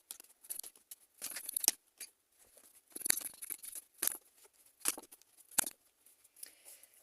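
Tarot cards being shuffled and handled: soft papery rustles and crisp snapping flicks in a series of short bursts, close and fairly quiet, with no talking.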